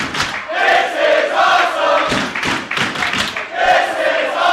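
Wrestling crowd at an IWW show in Brooklyn, New York, a loud dense roar of chanting voices that rises and falls in surging rhythmic waves throughout, close and filling the arena.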